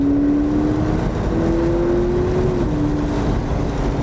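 A McLaren 650S supercar accelerates hard, its loud, steady engine note climbing in pitch, dipping briefly at an upshift around 6,000 rpm, then pulling on again without a break.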